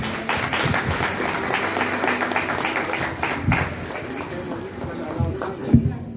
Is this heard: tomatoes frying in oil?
no